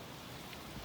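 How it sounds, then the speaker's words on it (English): Rain falling during a storm, a steady, dense hiss of drops with no clear individual hits, fairly faint and even throughout the brief moment. "It's raining."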